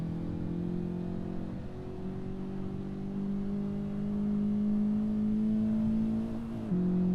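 A 2023 Honda Civic Type R on the Suzuka track holds a steady, droning engine note that climbs slowly under throttle, then briefly shifts near the end.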